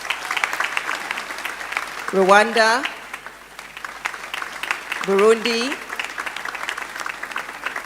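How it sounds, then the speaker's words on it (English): Continuous audience applause for visiting guests at a school graduation and prize-giving ceremony, steady clapping throughout while a voice over a loudspeaker names countries twice. "can we give them a round of applause?"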